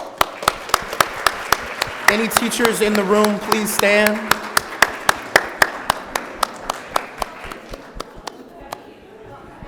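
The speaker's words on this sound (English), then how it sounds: "can we just give them a round of applause" Audience applause for teachers standing at an education convening, crisp claps, some in a steady rhythm, over a lively room, with someone speaking over it as the clapping gradually thins out.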